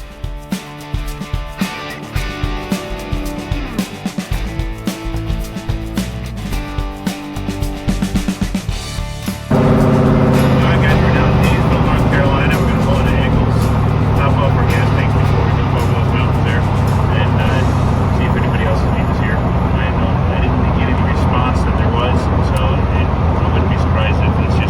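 Music plays at a classic car show, then a loud, steady engine rumble rises as a car pulls in close and idles nearby, drowning out the background.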